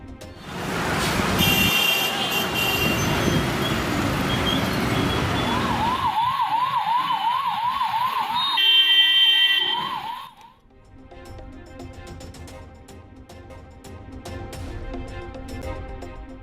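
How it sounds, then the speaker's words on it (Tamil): An ambulance siren wails in rising and falling cycles while the vehicle sits stuck in heavy traffic near a crowded temple, loud and close over steady road noise, then cuts off, leaving a dull traffic rumble. "ஆம்புலன்ஸ் வாகனமும் போக்குவரத்து நெரிசலில் சிக்கி தவிப்பு"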